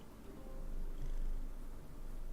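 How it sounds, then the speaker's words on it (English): A house cat purring while resting on a lap, a soft low continuous rumble, close and quiet, rising slightly in the middle and steady without any talk. "Sorry if you can hear purring. My cat is on my lap."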